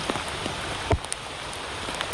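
Rain falls steadily during a bicycle ride, a broad even hiss of drops with a single sharp knock partway through.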